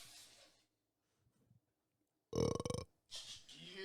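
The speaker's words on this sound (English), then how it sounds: "I've been burping all night and I just had to do it once." A single loud, close burp rolls out in a series of rapid throaty pulses after a quiet pause, with brief speech before it and a voice right after.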